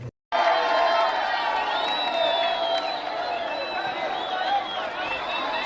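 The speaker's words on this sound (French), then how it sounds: "C'est l'entrée du M23 à Bukavu, applaudi par toute la population" A large street crowd in Bukavu cheers and shouts continuously as M23 fighters enter, a dense, sustained roar of many voices with whoops rising above it, close and loud after a brief silent start.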